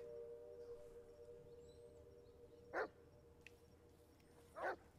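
A dog barks twice in The Blair Witch video game, two short sharp barks spaced about two seconds apart over a low hum and quiet ambience, moderately close.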